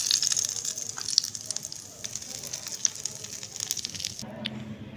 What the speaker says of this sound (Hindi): तड़का डाल देंगे।